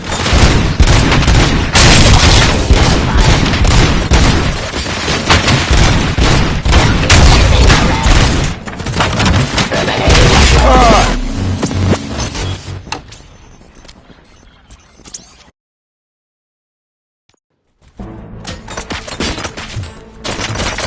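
Dense bursts of rapid gunfire and booming blasts from the video game RoboCop: Rogue City fill most of the stretch, then fade into quieter clatter, a brief silence, and renewed low rumbling activity.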